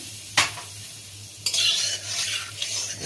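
Turmeric hits hot oil in a karahi for a tilapia fish dish, giving a sudden loud sizzle burst followed by scraping stirs and a continuing bright hiss, close by with no voices.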